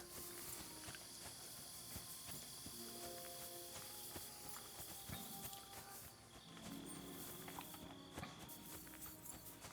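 Horse hooves clip-clopping in the medieval video game Kingdom Come: Deliverance 2, a faint, irregular run of hoof strikes on ground beneath a steady ambient game soundscape.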